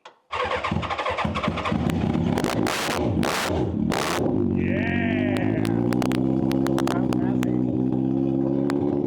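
A race car engine cranks and fires up, then settles into a loud, steady rumbling idle with a few revs; a voice speaks briefly over it.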